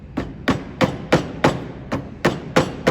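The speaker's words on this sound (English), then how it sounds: "I usually use my really good wooden handled, really nice hammer that I've had for 25 years" A wooden-handled hammer striking steadily during edge-binding work, about nine sharp, evenly spaced blows roughly every third of a second, close and loud, with no talking.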